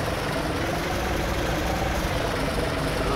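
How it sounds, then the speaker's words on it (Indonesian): A heavy bus engine runs steadily with a constant low drone and whine, loud and close, heard from inside the bus on a toll road. "Suara mesinnya gurih renyah enak ya."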